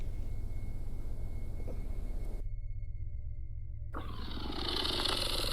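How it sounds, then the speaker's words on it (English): A creature's low, rumbling growl captured on a phone, a rough continuous drone with hiss that cuts out abruptly for about a second and a half midway before resuming. "I was able to get a recording of the thing growling on my phone."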